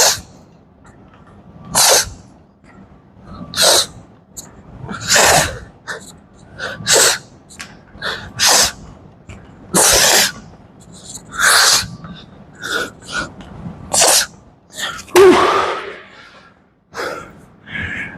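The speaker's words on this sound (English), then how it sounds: "I'm just going to be breathing straight into the microphone." Heavy exercise breathing straight into a microphone: loud, close, rhythmic bursts of exhaling and inhaling repeat every second or two with short quiet gaps between them, and no talk.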